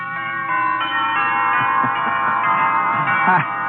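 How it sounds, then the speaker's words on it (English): Wedding bells played as a sound effect on an old radio show ring in a steady overlapping peal, bright and loud throughout, with a narrow, dated broadcast tone. "Wedding bells."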